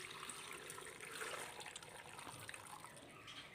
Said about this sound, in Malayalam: ഇതിലേക്ക് ഇനി തിളപ്പിച്ചാറിയ വെള്ളം ഒഴിക്കാം.